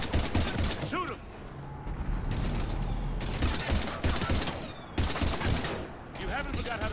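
Rapid bursts of gunfire in a modded Mass Effect game, loud overlapping volleys that come in clustered waves with short gaps, while voices shout over the shooting.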